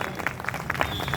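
A brief burst of crowd applause at an open-air gathering in Tikoniya Park, Sultanpur, congratulating Praveen Agarwal on his win; dense, moderately loud clapping that lasts only about a second.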